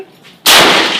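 A single loud, sharp gunshot from an SMLE Long Lee Enfield rifle fired outdoors, following a brief quiet moment.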